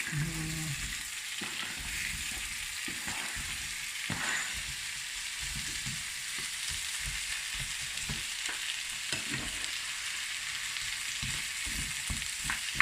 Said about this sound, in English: I'll let this saute for a couple minutes.